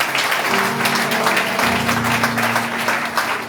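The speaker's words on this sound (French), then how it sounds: "Je demande un bel applaudissement." Church congregation applauding at an evangelical service in Haiti, continuous clapping over a sustained organ or keyboard chord and low hum, fairly loud throughout.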